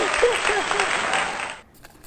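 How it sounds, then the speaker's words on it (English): A small group claps and cheers for a woman named Imani after she completes a challenge, with a few excited voices over the clapping before it cuts off abruptly near the end. "let's give a round of applause to Imani"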